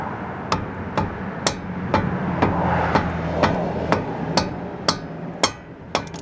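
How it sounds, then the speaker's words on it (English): A wrench strikes a brake caliper on a 2003 Acura RSX, about a dozen sharp metallic knocks at a steady rhythm, close and distinct over a low background hum. "Hit it with the wrench."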